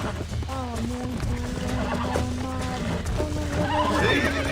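A horse in the Red Dead Redemption video game gives a long, loud whinny with clear rising and falling pitch, followed by hoof clip-clops and snorting over a steady game-world ambience, with voices talking at times.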